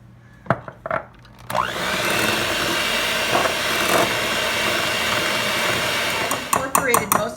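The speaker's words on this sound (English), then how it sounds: "Incorporated most of the powdered sugar using the mixer" An electric hand mixer beats cream cheese, egg and powdered sugar for a gooey butter cake batter. A few clunks come first, then a steady, loud motor whir runs for about five seconds and breaks off into scattered knocks at the end.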